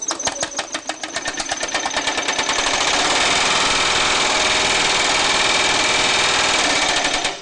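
A Baileigh MH-19 power hammer shapes sheet metal with rapid rhythmic hammering, starting as distinct quick blows and speeding into a continuous loud mechanical chatter with an engine-like drone, no voices.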